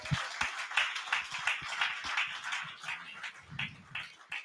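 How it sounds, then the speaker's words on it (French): A church congregation applauding at a prophetic conference, a rhythmic patter of many hands clapping at moderate distance, steady and uneven with no talk. "Let's give God a good hand."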